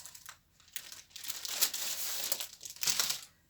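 Paper-backed sticky foam crinkled and handled up close while making a Christmas moon and stars wedding bouquet, bursts of sharp rustling crackle rising and falling in uneven waves over a few seconds.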